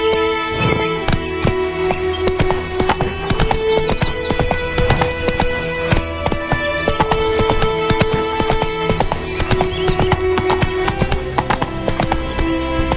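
In The Witcher 3 video game, a horse gallops with fast, rhythmic hoofbeats that stay prominent throughout, layered over dense in-game music and ambience.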